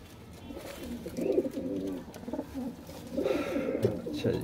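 Soft, close cooing from a Lahori Teddy pigeon, a few low rolling coos in two short bursts over a quiet background.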